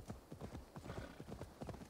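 Horse hooves clip-clop in a quick, even rhythm of close, distinct beats as a horse moves in Assassin's Creed Valhalla.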